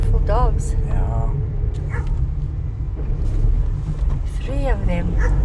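Several dogs bark and yip near a public road in a small mountain village, a few quick barks at the start and another burst near the end, over car engine rumble and nearby talk.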